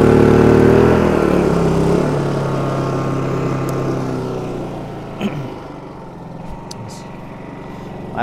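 Honda EU2200i inverter generator converted to run on propane, its steady engine drone loud at first and then dropping to a calmer, lower idle, with a few small knocks near the end.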